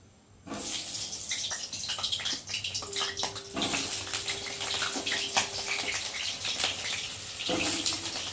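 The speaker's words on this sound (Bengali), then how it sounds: "আলুতে জল আছে তো, তার জন্য একটু ছিটকাচ্ছে।" Potatoes still wet with water fry in hot oil in a kadai, a loud, close, continuous crackle and spatter with a steady hiss, starting abruptly after a quiet moment.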